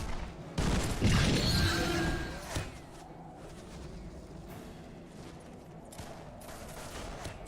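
A volley of massed gunfire from Warhammer: Mark of Chaos erupts loudly in a dense burst, then fades into a lower battlefield rumble with scattered distant shots.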